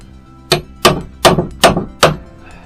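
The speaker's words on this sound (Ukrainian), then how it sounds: "беремо зубили молоток и легким движением, постукиванием мы отделяем вот эту часть от этой части" Five sharp metallic taps of a hammer striking a chisel to separate parts of a water pump station, evenly spaced about half a second apart, close and clear with no talking.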